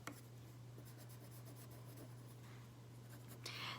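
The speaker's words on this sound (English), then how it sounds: "So I'm gonna lightly layer some more colored pencil." A colored pencil is layered lightly over paper in soft, faint scratchy strokes. They run continuously under a low steady hum, ending in a slightly louder rub.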